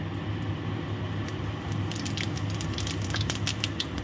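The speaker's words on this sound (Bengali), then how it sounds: "সুন্দর চুটপুট চুটপুট করে আওয়াজ হচ্ছে দেখেছো তেলটা খুব গরম" Cumin seeds splutter in very hot oil, a dense crackle of small pops growing busier in the second half over a steady low background hum.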